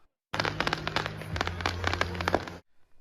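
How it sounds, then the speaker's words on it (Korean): New Year fireworks and firecrackers in Wuhan, China, a dense rapid barrage of crackling pops and bangs over a low rumble, lasting a couple of seconds before stopping abruptly. "전국 각지에서 축포도 쏘아 올렸습니다."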